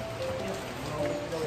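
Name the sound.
rain falling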